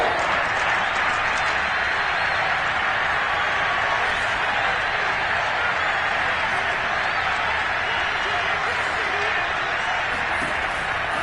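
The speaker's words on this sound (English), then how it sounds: "How about some applause for the defense there?" A stadium crowd in an American football video game applauds and cheers steadily, a dense, loud wash of clapping and roaring that holds without a break throughout.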